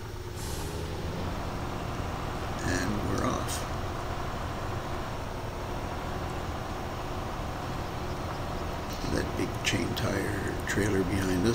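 An RNG M31 military tractor truck in SnowRunner drones with a heavy, steady diesel engine note as it strains, with brief air-brake-like hisses and clatter near the start and end.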